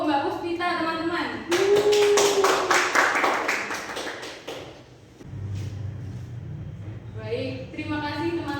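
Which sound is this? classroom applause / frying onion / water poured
classroom applause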